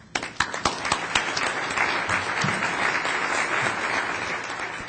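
A conference audience applauds as a speaker is welcomed at an employee ownership conference, with a few sharp claps at first that quickly swell into sustained, fairly loud clapping from a sizable crowd.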